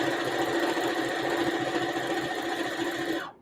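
Sewing machine running steadily as it stitches circles on fabric, a loud continuous mechanical whir with rapid needle rhythm that stops abruptly at the end.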